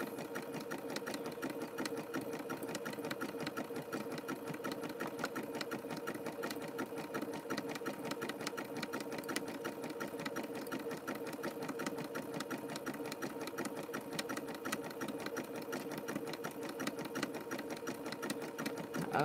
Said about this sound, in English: it gets thicker and my sewing machine struggles.